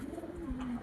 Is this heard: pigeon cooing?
yes